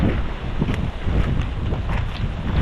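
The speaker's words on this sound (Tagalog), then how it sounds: "Kasi mahangin ho eh." Heavy wind blasts steadily against the microphone, a dense rumbling roar with gusty surges and no clear speech.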